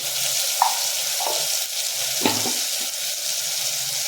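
Loud, constant sizzle of turmeric, garam masala, chicken and potatoes sautéing in a pan, with a few scraping clunks as they are stirred.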